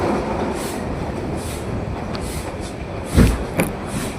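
Steady rumble and rattle inside a moving passenger train between Jamalpur and Bhuapur, with a couple of brief sharp knocks of the wheels and carriage joints over a constant low roar.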